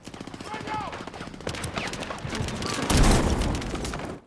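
M4A1 carbine gunfire in Battlefield 6 crackles in rapid bursts, with sharp automatic shots that build to a denser, louder volley near the end, mixed with other battle noise and brief voices.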